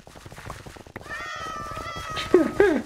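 A cat in the video game Minecraft meows several times, close and fairly loud, the cries rising and bending in pitch over low murmuring sound in the background.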